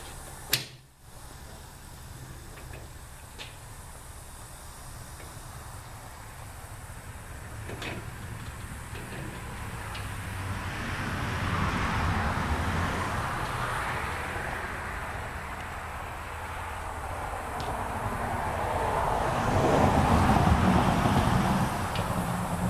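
Homemade welding cart rolled around on a floor, a low, steady rumble of wheels that swells and fades with a few light clicks and knocks, no talking over it.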